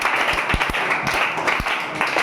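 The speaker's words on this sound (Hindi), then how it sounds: "ताली ताली ताली" Audience applause at a class 10 school quiz competition, a steady patter of many hands clapping for about two seconds with a few sharper, closer claps standing out.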